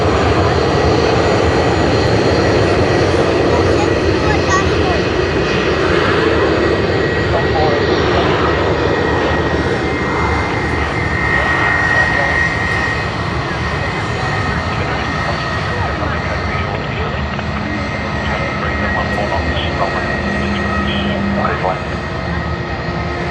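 A Vietjet Air jet airliner rolls past at Sydney Airport, its engine roar loud and steady throughout, with people talking over it.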